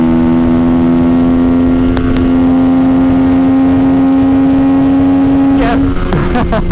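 A Honda CRF 450 supermoto motorcycle holds a loud, steady high-revving engine drone at speed, with a brief shift near two seconds and rising roar and wind toward the end; a voice is faintly present.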